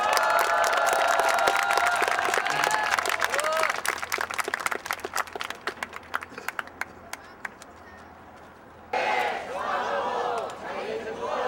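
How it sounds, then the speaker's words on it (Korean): A rally crowd claps and cheers loudly, with chattering voices, at an outdoor protest gathering; the clapping thins into scattered claps, then a burst of shouting and cheering rises again. "우리 동지들께 큰 박수와 함성 부탁드리겠습니다"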